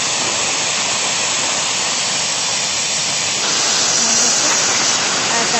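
Pressure cooker on a gas stove letting off its whistle, a loud, steady rushing hiss of escaping steam that runs unbroken throughout and swells slightly toward the end.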